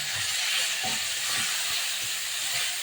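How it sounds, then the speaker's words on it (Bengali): Cauliflower and potato are sizzling together in oil tempered with nigella seeds, a dense, even, fairly loud hiss with faint low knocks of stirring beneath it. "এবার দিয়ে দেবো যুক্তি ফুল আর আলুটাকে একসঙ্গে"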